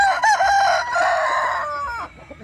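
A Thai game rooster crows loudly and close, one long, strained call with a rising start and a drawn-out, wavering finish.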